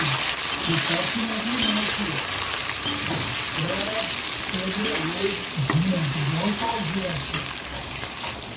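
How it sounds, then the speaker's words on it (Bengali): Capsicum, onion and chilli frying in hot oil, a loud, constant close-up sizzle with stirring scrapes throughout, while a voice talks over it. "এইবার এই তেলটার মধ্যে এখানে দেখো ক্যাপসিকাম পেঁয়াজ আর লঙ্কাটা দিয়ে দিচ্ছি"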